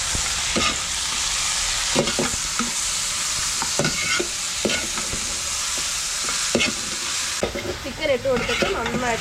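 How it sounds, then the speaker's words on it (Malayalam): One kilo of chicken sizzles loudly in a pan for Kerala-style kappa biryani, stirred with repeated scraping strokes against a constant frying hiss, close and alone. "ചിക്കൻ ഇട്ട് കൊടുത്തിട്ട് നന്നായിട്ടൊന്ന് ഇളക്കുക"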